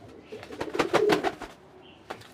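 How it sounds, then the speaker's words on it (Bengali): A pigeon coos nearby, a soft throaty burble swelling and fading within a couple of seconds, with a faint extra note at the end. "এই হলো সেই নীলে পায়রা"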